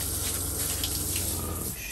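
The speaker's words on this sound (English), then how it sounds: "Taking the first shower in the bus, Pete!" Shower running inside a converted bus, a steady close hiss of spraying water with no break.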